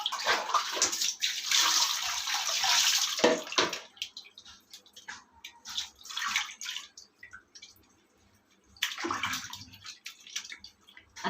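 Goat intestines are washed under running clean water, with bursts of pouring and splashing broken by short pauses and handling sounds, close and without talk.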